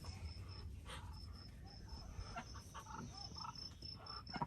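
A broody hen clucks a low warning repeatedly at close range, soft agitated clucks over quiet outdoor background with a faint steady high whine.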